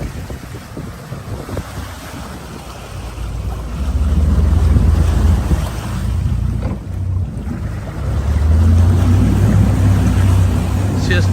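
A Barletta pontoon boat with twin outboard motors pivots sideways on the water, the engines rumbling low and swelling louder as thrust builds, with wind buffeting the microphone and water washing throughout.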